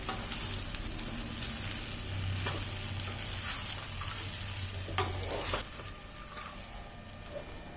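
Spices stirred and sizzling in a hot pan while making sundakkai (turkey berry) pickle, a steady fry hiss with a few scraping clinks of the spoon, close and moderately loud, no talking.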